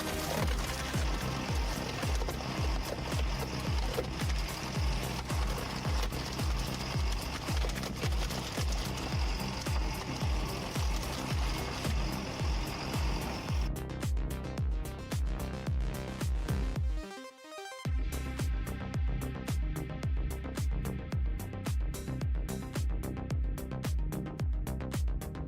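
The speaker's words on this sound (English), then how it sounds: "this guy only needs to saw 1 tree and brings down 3 trees instead" A big chainsaw cutting through a tree, a steady loud buzzing engine drone with a rapid pulsing rhythm that continues throughout, briefly dipping near the middle.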